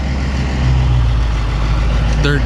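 Bulldozer diesel engine idling while warming up near a lake, a deep steady rumble close by with a faint higher whine near the end.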